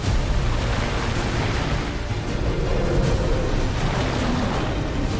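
A grenade explodes in Mad Max: Fury Road, a loud, sustained roaring rumble with heavy low end that fills the whole stretch without clear breaks.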